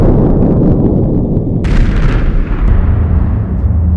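A loud, deep boom bursts out midway through a heavy rumbling roar, followed by a crackling burst and lingering low rumble.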